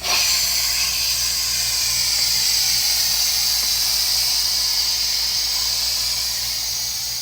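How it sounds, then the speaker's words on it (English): Strong, steady hiss of steam blasting from a pot-style steam diffuser, loud and close, continuous for several seconds with no talk. "And now don't blast yourself in the face with the steam."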